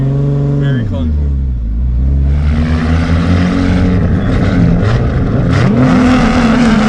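A Lexus IS300 with a 2JZ engine, 4-inch piping, a slipper clutch and a loud, clunky transmission drones with a rough, rising and falling exhaust note that stays loud and close throughout.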